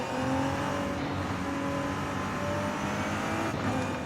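Nissan R34 Skyline with an inline-six engine in a racing video game, driven with a steering wheel, holding a steady, buzzing engine drone with slight pitch rises and gentle revving, moderately loud and continuous with no talk.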